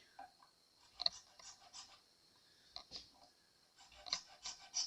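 A file rasps across the E, A and D string slots of a black guitar nut, widening them in short, close, uneven scraping strokes with pauses between bursts, fairly quiet and with no talking.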